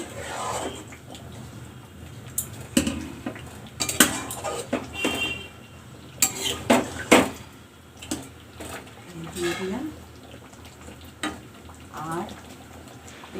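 Meat and spices being stirred in a kadai, with clinks and scrapes of a utensil against the metal pan and some sizzling, intermittent over background kitchen noise and occasional voices.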